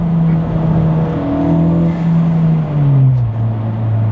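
Modified Honda Civic Type R FL5 making a fast flyby, its engine note rising as it approaches, then dropping in pitch as it passes and pulls away.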